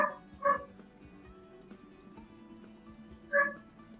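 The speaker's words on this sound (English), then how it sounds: "I might have to see what my dog is barking at" A dog barks twice in short separate bursts, one near the start and another near the end, moderately loud against a quiet indoor background with no talking.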